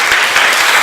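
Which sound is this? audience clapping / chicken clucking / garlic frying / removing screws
audience clapping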